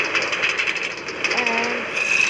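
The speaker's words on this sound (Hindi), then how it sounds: "ओके रेल तो स्टार्ट हो चुका है, बहुत स्पीड चल रहा है, बहुत ज़्यादा स्पीड है।" Fast-moving train in a video game, a steady rumbling clatter with rhythmic metallic clicks and a brief tonal whine, with a voice talking over it.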